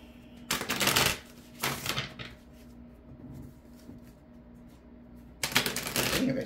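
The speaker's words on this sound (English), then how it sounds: "I'm shuffling it. That damn card was still there." A deck of playing cards being shuffled in three quick, close bursts of riffling and flapping, separated by quieter pauses.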